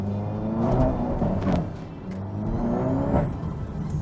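A Stage 2 Seat Leon Cupra revving on a winding road, heard from inside: a mid-pitched engine note rising and falling in two swells over a steady rumble, loud and close, with any exhaust pops hard to pick out.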